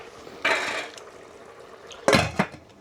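A lid set on a cooking pot of simmering chicken gizzard curry, with two clattering metal clanks a moment apart and a lighter rattle after, over quiet kitchen background.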